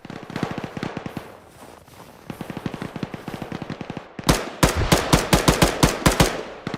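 Automatic weapons fire in an Arma game battle: steady bursts of rapid shots, growing louder and sharper near the end with spaced heavy cracks.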